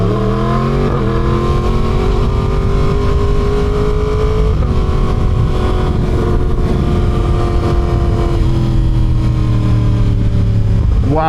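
A Yamaha R1 sport motorcycle engine revs loudly and continuously, its pitch climbing and dropping through several throttle swells, with gurgling, burbling pops as it decelerates. No voices are heard.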